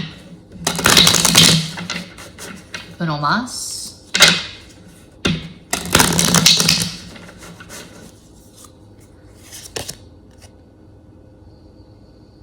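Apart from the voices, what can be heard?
shuffling a tarot card deck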